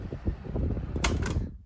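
Cardboard fan blades spin at medium speed on a homemade fan, giving a soft rhythmic fluttering whoosh with pulsing beats, a brief brighter hiss near the end before it cuts off.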